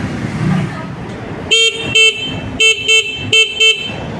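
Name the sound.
motorcycle horn honking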